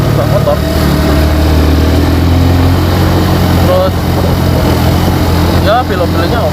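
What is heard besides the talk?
Suzuki Thunder 125 motorcycle engine while riding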